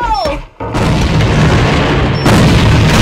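A loud, close grenade blast in a tactical multiplayer shooter booms after a short silent gap and leaves a long, heavy rumble as a voice calls out in the game.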